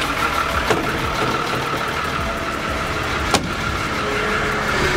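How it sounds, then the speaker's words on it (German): A Marex 360 CC motor yacht engine starts and runs at a steady idle with a low, continuous rumble, broken by a couple of brief sharp clicks. "Und dann starten wir den Motor."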